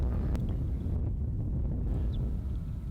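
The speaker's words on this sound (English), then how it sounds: "The wind is very strong." Strong wind buffets the microphone at the Genghis Khan statue complex in Mongolia, a low constant roaring rumble with gusty swells and no talk.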